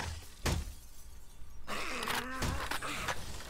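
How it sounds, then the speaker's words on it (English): Glass shattering in the survival game 7 Days to Die, a sharp crash early on followed by a second break, then tonal in-game sounds and a brief voice-like cry over background noise. "I hear glass breaking."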